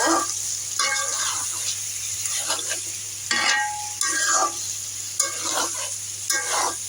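Eggplant stewing in a pan after a small amount of broth is poured in, a steady sizzle and bubbling with occasional stirring scrapes, close and continuous beneath a low hum.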